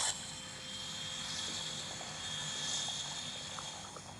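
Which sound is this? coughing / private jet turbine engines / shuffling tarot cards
private jet turbine engines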